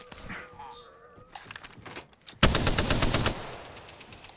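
Apex Legends match with a quiet stretch of game sounds, then an abrupt, loud burst of rapid automatic gunfire lasting about a second, after which a faint tone lingers.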